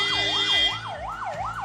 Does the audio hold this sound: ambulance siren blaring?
yes